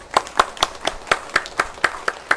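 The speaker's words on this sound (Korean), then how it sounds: "우리 크게 박수로 환영합니다." A church congregation claps to welcome a soloist during a Sunday morning worship service, with about ten sharp, evenly spaced claps in quick succession, close and clear.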